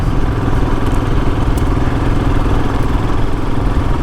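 A motorcycle engine running steadily at a low, even idle-like rumble with a rapid mechanical throb, loud and close, continuous for the whole stretch with no talk.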